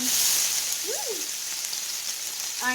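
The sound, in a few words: meat and chopped onion frying in pan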